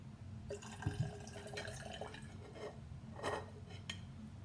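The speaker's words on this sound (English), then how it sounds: "so we're going to pour it in this jar" Water pouring into a glass jar, soft splashing and gurgling with a few drips, fairly quiet and close.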